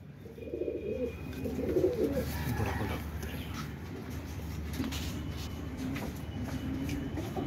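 Chinese pigeons cooing in a loft, soft repeated low coos rising and falling close by over a steady background hum.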